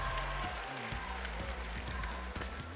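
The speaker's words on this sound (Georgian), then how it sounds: "გთხოვთ აპლოდისმენტები სოფოს და გავაცილოთ ეს სცენიდან" At a live televised X Factor concert, a studio audience applauds a departing contestant with steady, dense clapping that fills the hall, while music and a host's voice sit faintly underneath.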